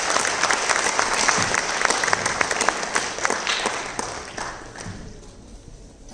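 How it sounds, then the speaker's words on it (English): An audience at a Salangai Pooja dance recital applauds the performers with brisk, steady clapping that thins out and fades toward the end, with no voices. "So big hand of applause to all."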